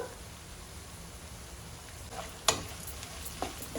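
Salted potato pieces fry in a pan with a low, even sizzle, joined near the end by a couple of sharp spoon taps and stirring sounds.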